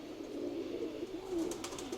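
A wet pigeon, one of the fog-cutter (tumbler) breed, coos in a steady rolling warble, close and fairly loud, with no talking over it.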